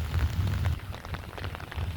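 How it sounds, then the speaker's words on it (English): Light rain falls steadily outdoors during a walk near a house in a low-lying area after a night of rain, a soft continuous patter over a low rumble, with no talking. "It's just a kind of a light rain now,"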